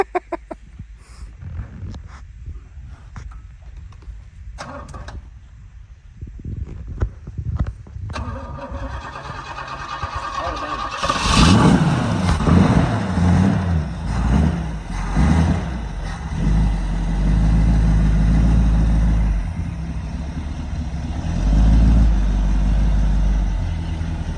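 A barn-find Pontiac GTO engine cranks with sputtering attempts, then fires and settles into a loud, rumbling, uneven run that swells and fades as it is revved.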